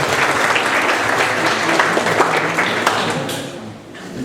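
A community forum audience in Makedonski Brod claps together in a dense, loud burst of applause that holds steady before thinning out near the end.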